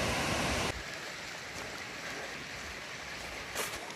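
A stream flows at a trail crossing on the Mountains to Sea Trail, a continuous rushing babble heard nearby. It is louder for the first moment, then settles into a softer steady flow with no talking.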